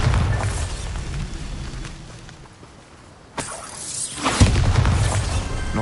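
Bombarda blasting spell in Hogwarts Legacy on PS5: a rumbling magical explosion with a bright shattering crack, then a second burst and lingering debris roar, loud and close.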